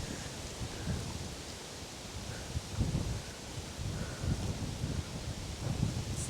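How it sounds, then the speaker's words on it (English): Wind blows outdoors in the bush, producing a steady soft rush with gusty buffeting bursts against the microphone and a faint rustle, with no voices. "Ooh, it's quite windy here, isn't it?"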